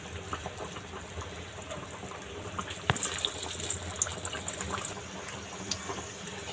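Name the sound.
vade (fried flatbreads) frying in oil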